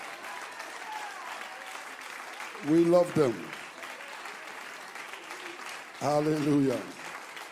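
A church congregation applauding, a steady wash of clapping throughout while a preacher's voice rises over it twice in loud, sung exclamations.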